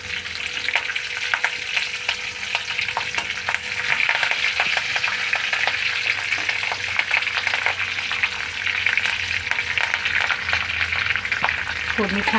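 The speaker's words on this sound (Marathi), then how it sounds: "फोडणी छान बसली" Mustard seeds and curry leaves crackle in hot oil while a tempering is made for an idli-dosa chutney. A dense, continuous sizzle runs with rapid popping throughout, and a faint voice sits underneath.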